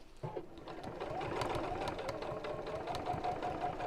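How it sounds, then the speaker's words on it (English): A sewing machine runs steadily, stitching a fabric reverse heart appliqué pouch, with a continuous close mechanical whirr and rapid needle rhythm after a brief start. "use one of the decorative stitches on your sewing machine"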